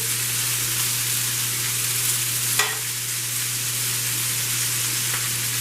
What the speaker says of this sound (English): and 2 cans diced tomatoes. And we're just going to let it simmer